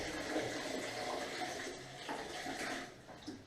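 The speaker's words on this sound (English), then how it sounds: "Always put the water in first" Water pours into a bucket to start a plaster mix during a basement renovation, a faint, steady splashing rush that lasts throughout with no voices.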